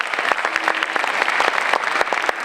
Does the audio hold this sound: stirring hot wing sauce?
no